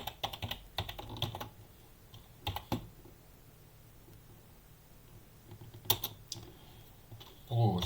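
Typing code on a computer keyboard in short bursts of close, crisp key clicks separated by quiet pauses, with a soft thump near the end.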